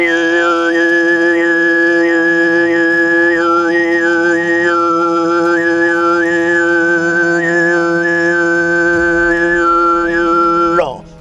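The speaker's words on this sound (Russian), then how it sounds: "самый сложный вид горлового пения, называется СБСК, и это как свист" A single voice performs whistle-like Altai throat singing, holding a steady low drone while a piercing whistle-like overtone hovers above it, wavering in small melodic turns for about eleven seconds.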